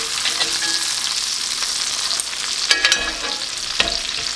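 A rib eye steak sears in a cast iron pan with brown butter, giving a bright continuous sizzle close up, broken by a few sharp clacks and spoon scrapes, with no speech.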